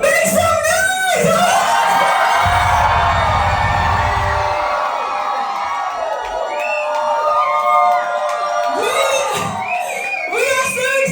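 A concert crowd at The Key Club in Leeds cheering, screaming and whooping loudly and continuously, with a deep rumbling burst in the middle and individual shouts rising above the roar.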